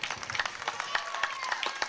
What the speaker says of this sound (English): please give a big round of applause to Michael Lorge.